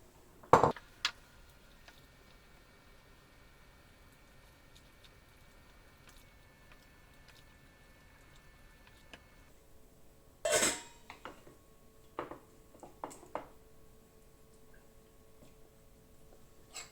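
Pasta goes into a kitchen pot with a sharp clink of metal utensils, followed after a quiet stretch by a cluster of brief clatters and taps against cookware, close and fairly soft.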